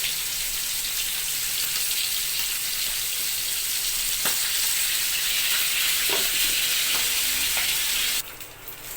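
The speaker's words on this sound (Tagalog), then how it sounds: "nagprito na naman tayo sa ating daing na bangus" Marinated milkfish (daing na bangus) fries in a pan with a loud, continuous crackling sizzle and a few sharp pops, close by and steady for several seconds before dropping off at the end.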